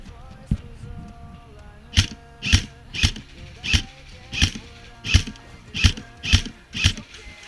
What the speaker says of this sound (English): you're dry firing.